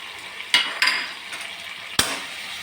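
Sambar masala with coriander powder and green chillies is sautéed in a pan over a frying hiss, with three sharp spatula scrapes against the metal, two close together early and one more later.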